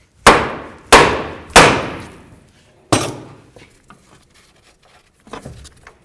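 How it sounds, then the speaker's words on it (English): A hammer strikes metal in sharp, ringing blows to free a tie rod end from the steering knuckle of a 1998-2002 Honda Accord: three quick hits, a pause, a fourth, then softer taps trailing off. "we're going to bonk along here just to break the tie rod end free from the knuckle itself"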